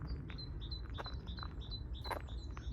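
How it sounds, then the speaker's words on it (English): Birds chirping and singing close by, a series of short bright tweets repeating over a soft low background hum. "and listening to the birds."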